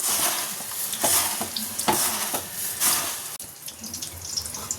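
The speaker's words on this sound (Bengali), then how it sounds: "পেঁয়াজিটা অলমোস্ট ভাজা হয়েই গেছে" Onion fritters (peyaji) frying in hot oil, a bright continuous sizzle with repeated scraping and stirring strokes in the pan, close and fairly loud with no one talking.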